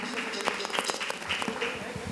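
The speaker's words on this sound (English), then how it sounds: "Can we have a big clap for her?" Audience applause at a church silver jubilee cultural evening, a short and fairly faint round of scattered claps with voices nearby.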